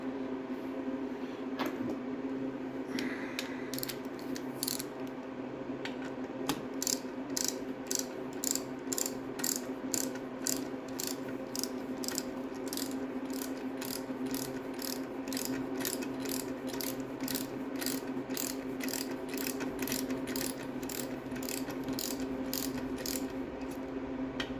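Torque wrench tightening coarse-threaded bolts on a Triumph TR6 gearbox: a steady run of close, rapid ratcheting clicks over a low mechanical hum, quickening into an even rhythm.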